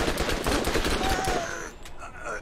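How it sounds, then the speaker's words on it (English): Rapid tap-fired gunshots in the video game Borderlands, a dense loud burst of repeated shots for over a second that then drops away into quieter game sounds. "Try to tap fire in this game."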